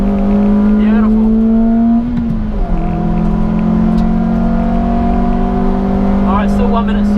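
A track car at Wodonga Circuit, heard from the cockpit, holds a loud steady engine drone, dips briefly as the throttle lifts, then pulls hard again under power while the driver talks over the noise.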